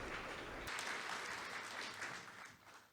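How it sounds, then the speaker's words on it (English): Audience applause for a panel at a nuclear supply chain symposium, a sustained steady clapping from a room full of people that begins abruptly and fades slightly toward the end. "please give the members of the panel a big round of applause"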